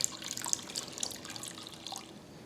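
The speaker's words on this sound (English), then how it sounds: "then I'm going to add just enough water to cover them by about halfway." Water pours steadily into a cooking pot of carrots while a holiday dinner is prepared, a close, continuous splashing trickle with small drips, heard alone without voices.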